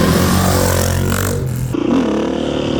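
A 2000 KTM 520SX dirt bike engine revs hard and loud up close, a rough, clattering roar that dips briefly before surging again, with no voices.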